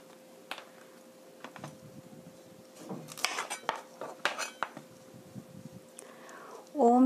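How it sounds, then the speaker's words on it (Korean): A knife slices zucchini on a cutting board in a run of irregular close chops and clacks, with a steady faint hum behind and a louder clatter at the end. "먼저 애호박을 썰어 보겠습니다."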